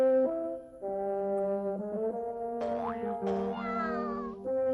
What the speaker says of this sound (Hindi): ये तो किसी बिल्ली की आवाज लगती है।